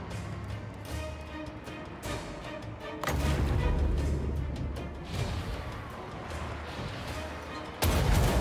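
Artillery fire in the Total War Warhammer 2 naval battle, with several deep booms and crashing impacts over a continuous rumbling battle din at moderate level, with a sharp loud burst near the end and no talking heard.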